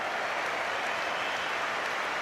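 A stadium crowd at a Manchester United versus ACF Fiorentina match applauds as goalkeeper David De Gea is substituted, giving a steady, dense wash of clapping and crowd noise throughout.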